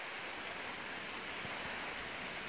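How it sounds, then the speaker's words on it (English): Steady, dense rush of falling water, a constant broadband roar with no pauses, fairly close by and filling the whole scene. "And over here is the waterfall."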